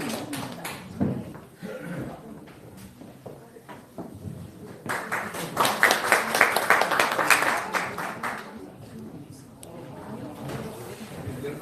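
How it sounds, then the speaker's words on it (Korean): Applause welcoming a speaker at a taekwondo international cooperation signing ceremony in Korea, clapping rising in the middle and swelling loud before thinning out, with light background noise and some scattered sounds around it. "큰 박수로 모시겠습니다."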